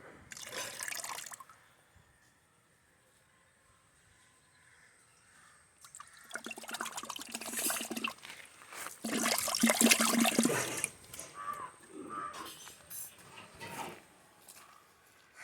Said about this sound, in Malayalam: അപ്പം ഞാൻ വെള്ളത്തിനകത്തോട്ട് ഒഴിക്കാൻ പോകുന്നു